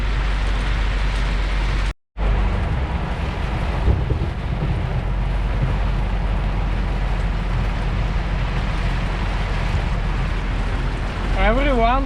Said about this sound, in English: So strong rain.